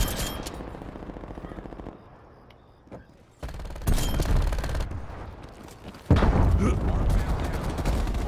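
Bursts of automatic gunfire in a night-time Nuketown Holiday match of Call of Duty Black Ops Cold War, rattling in dense volleys that grow louder and heavier toward the end, with a player talking over the shooting.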